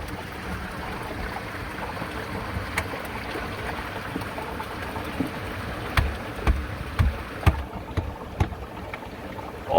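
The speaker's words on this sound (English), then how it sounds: "As soon as I turn this guy, we should divert the water into the penstock." Water diverted from a barrel into a micro hydro penstock intake makes a steady, close rushing wash with a few sharp clicks and knocks toward the end, and no voices.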